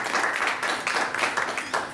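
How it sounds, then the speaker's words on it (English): Audience applause at a proclamation event in Virginia on workforce development, a steady, moderately loud patter of many hands clapping at some distance throughout. "Round of applause."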